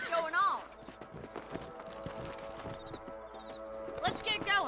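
Horses gallop in the Red Dead Redemption video game, their hoofbeats clopping steadily beneath game music, with voices speaking at the start and end.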